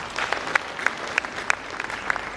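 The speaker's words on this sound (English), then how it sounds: "a round of applause for the Minister." Audience applause for a government minister at a mining-sector event, a steady crowd clapping with distinct individual hand claps popping out, moderately loud and continuous.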